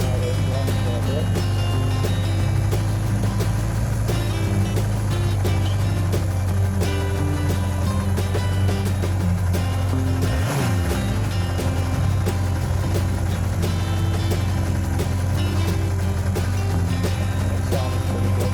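A 1988 Suzuki Katana 1100 motorcycle engine idles with a steady, low, throbbing exhaust hum, close and constant, with a brief revving swell near the middle.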